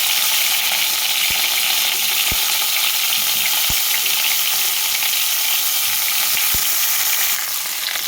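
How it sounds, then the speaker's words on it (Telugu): Stuffed brinjals frying in hot oil in a pan, giving a steady, loud sizzle throughout with a few sharp clicks of the pan, and no voices. "అందులో వంకాయల్ని మొత్తాన్ని అలా వేసుకోవాలి."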